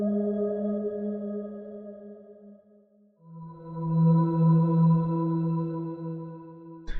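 Fracture Sounds Moonlight Celeste playing sustained tonal chords drenched in big hall reverb, a soft chord fading before a louder, fuller one swells in, with a brief click at the end and no voices.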